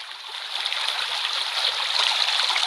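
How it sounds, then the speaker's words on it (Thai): Steady rushing stream water from a meditation phone app, a continuous bright hiss of flowing water that stays even and fairly loud throughout, with no voices. "อันนี้ก็กลายเป็นเสียงลำธารนะครับ"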